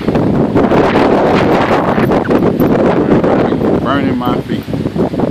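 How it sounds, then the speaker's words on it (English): Strong, fast-moving storm wind in Halifax County, Virginia roars steadily and loudly across the whole stretch, buffeting the microphone, with a voice briefly heard near the end. "God, you hear the wind."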